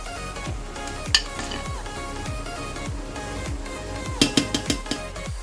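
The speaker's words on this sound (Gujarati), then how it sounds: "આવી રીતે આપણે બધા પકોડાને ફ્રાય કરી લઈશું" Pakoras frying in hot oil, a continuous bubbling sizzle with a cluster of sharp metallic clinks from a utensil against the pan near the end.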